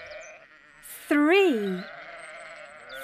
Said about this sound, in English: Three sheep.